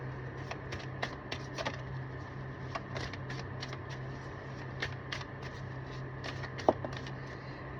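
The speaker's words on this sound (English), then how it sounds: "I need to actually shuffle this deck a little bit." A deck of cards is shuffled close by, with quiet crisp riffles and snaps in uneven bursts over a low steady hum.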